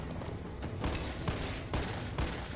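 Dense, continuous gunfire from Resident Evil 3, with overlapping shots rattling steadily at a modest, slightly distant level and no clear pauses.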